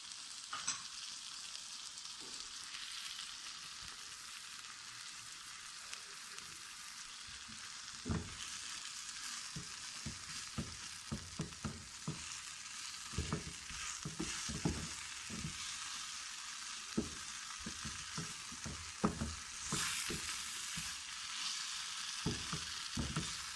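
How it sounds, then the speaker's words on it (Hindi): Soy sauce goes into a hot pan of frying potato and minced meat filling for kachori, sizzling steadily at close range with clattering stirs and scrapes of a spoon throughout, no voices. "अब इसके साथ ही सोया सॉस भी डालेंगे।"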